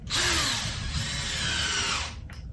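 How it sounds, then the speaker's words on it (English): A power drill with a 5/32-inch bit bores a pilot hole through scrap wood, one loud, steady whirring burst lasting about two seconds before cutting off. "So I'm just going to pre-drill the holes. All the way through."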